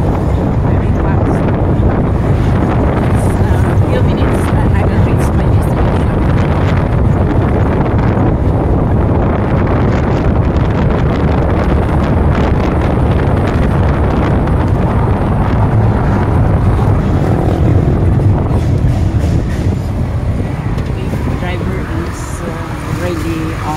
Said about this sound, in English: I enjoy riding a jeepney.